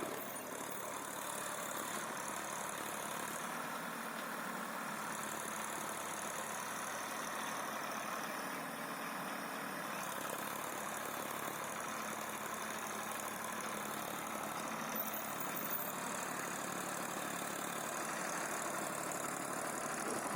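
A tractor engine ploughs a field being readied for cucumber growing, a steady mid-distance drone with little change over twenty seconds and no voices.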